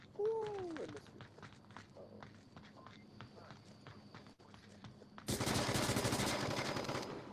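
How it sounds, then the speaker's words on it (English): Gunfire in the Onward VR shooter, with scattered sharp shots and clicks over a faint voice early on, then a loud dense burst of rapid fire in the final seconds. "Shots fired."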